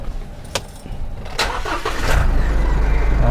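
A newly bought car starts up nearby: a few faint clicks and rattles, a brief crank, then the engine catches and settles into a loud, steady idle rumble.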